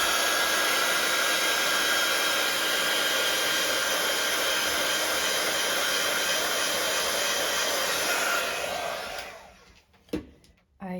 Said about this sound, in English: you can run over it with your heat tool, which I'm going to do